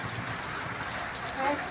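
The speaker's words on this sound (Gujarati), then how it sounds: "પહેલો વરસાદ છે" First monsoon rain pattering steadily on a tiled roof, a dense, even wash of drops at moderate distance with faint background noise throughout.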